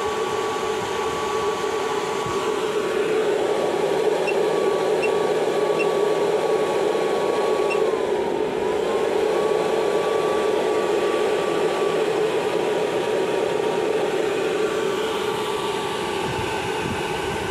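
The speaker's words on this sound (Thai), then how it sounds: "เสียงพัดลมค่อนข้างดัง" A grid-tie inverter's cooling fan runs loudly and steadily throughout during a bench test, a continuous broadband whir with a faint tonal whine that dips briefly midway.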